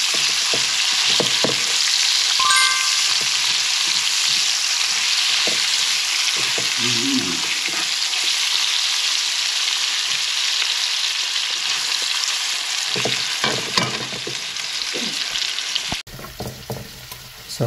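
Onions sizzling in hot oil in a pan while Filipino kare-kare is being cooked, a loud, steady frying hiss close by, broken now and then by scraping stirs and soft clinks.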